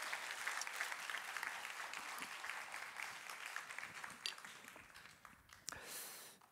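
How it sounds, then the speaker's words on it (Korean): Congregation applauding during a Sunday church worship service, steady dense clapping throughout that fades toward the end, with no voices over it. "우리 하나님께 영광의 박수를 한번 올려드립시다."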